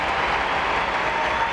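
A crowd applauds at a gymnastics competition after a gymnast's routine, steady dense clapping that holds at an even level throughout without any talk over it.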